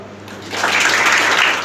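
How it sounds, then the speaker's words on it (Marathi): Students at a college voter-awareness event applaud for a madam, a burst of clapping swelling up after a brief quiet start and holding steady. "मॅडमसाठी एकदा टाळ्या वाजवा"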